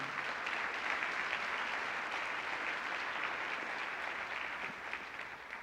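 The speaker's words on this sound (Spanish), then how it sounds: "Dele el aplauso al Señor." Sustained applause from a church congregation at a sermon, dense and steady throughout at an even level, with no voices standing out above the clapping.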